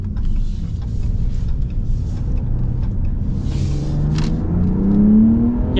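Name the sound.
2025 Ram RHO truck engine revving to redline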